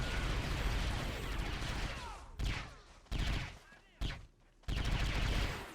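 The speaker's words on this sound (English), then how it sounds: "It's going to be a violent firefight in here" Dense gunfire from a firefight in Men of War: Assault Squad 2 as Shoretroopers storm a Rebel fort on Scarif, with sustained rattling volleys that break off into several loud, abrupt bursts separated by short lulls.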